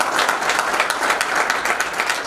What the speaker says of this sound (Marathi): सरांसाठी जोरदार टाळ्या वाजवायच्या